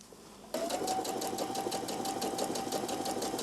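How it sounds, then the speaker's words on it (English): A sewing machine starts abruptly and runs in a fast, even rhythm while stitching the center front seam of a skirt, loud and near with no talk. "So we are now going to sew the skirt front middle seam, center seam."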